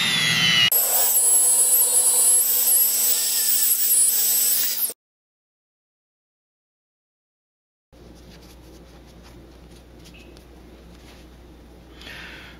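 A CZ 455 rifle bolt being polished with a power tool, which gives a loud steady high whine for several seconds, then silence, then a quieter, softer rubbing hiss.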